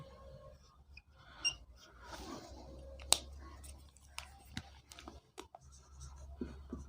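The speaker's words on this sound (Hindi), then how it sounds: "यहाँ पर मैं लिख देता हूँ कि एक" Chalk or marker writing on a board during a lesson, a series of faint scratchy strokes and small taps with a quiet murmur in the background.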